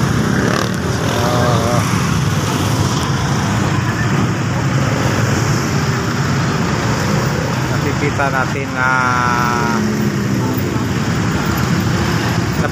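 Heavy, constant road traffic fills a highway in Sibulan during a local fiesta, with engines and motorbikes droning nearby and a brief horn-like tone in the middle, while someone talks over the noise.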